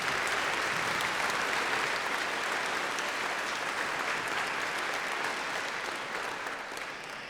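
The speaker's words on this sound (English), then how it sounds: "Let's give everybody on stage a round of applause" A concert audience gives sustained, full applause for youth orchestra players on stage at a spring finale concert. The dense, even clapping from a large crowd holds steady throughout and tapers slightly at the end.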